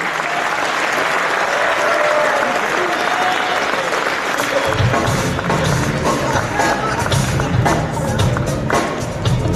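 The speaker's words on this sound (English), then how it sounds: "Give another warm round of applause." Audience applause at a boxing hall of fame induction ceremony, a long, loud stretch of crowd clapping that thickens about halfway through with added low thumps and murmuring.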